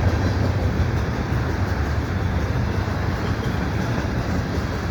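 A CN freight train passes a winter night scene near the Des Sources Boulevard ramps, giving a steady, loud, unbroken rumble and roar that holds level throughout.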